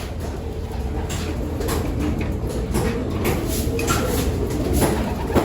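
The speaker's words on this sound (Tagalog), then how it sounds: "halos mapupuno na yung perch namin, mga kalapatids" Pigeons in a loft aviary give off soft cooing and fluttering over a low, busy background, with occasional sharp wing claps and shuffling sounds scattered throughout.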